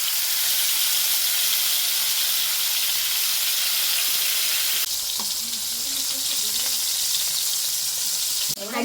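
Food fries in heated oil with a steady, loud sizzling hiss that drops a little partway through, then carries on with a faint clatter and a sharp knock near the end.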